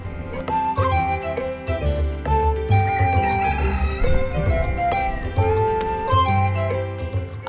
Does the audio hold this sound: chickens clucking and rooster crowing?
yes